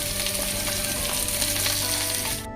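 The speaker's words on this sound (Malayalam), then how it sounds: "ഉള്ളിയും ഈ നീളത്തിലുള്ള പച്ചമുളകും കൂടെ ഒരുമിച്ചിട്ട് വേണം വഴറ്റിയെടുക്കാൻ." Onions and long green chillies sautéing in a pan for a traditional Kerala chicken curry, a steady, close, full sizzle with faint stirring, carrying on continuously with no talk and cutting off abruptly at the end.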